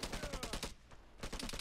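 Rapid automatic gunfire in the shooter game Vigor, a dense burst of close shots that pauses briefly and resumes, with no speech.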